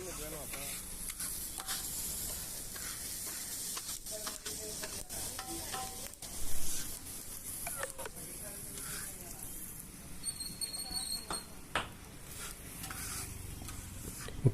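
Bajji chillies fry in a pan for an omelette, giving a steady broadband sizzle throughout with a few soft clinks and brief louder bursts, no talk.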